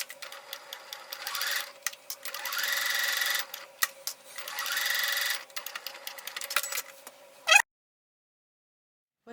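Sewing machine stitching the side seams of a lined fabric pouch, running in several steady bursts with short pauses between, close and clear, then stopping abruptly into silence.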